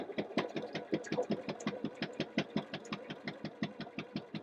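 A Janome sewing machine stitches a seam in a fast, even run of mechanical pulses, about six per second, close and steady, with no talking.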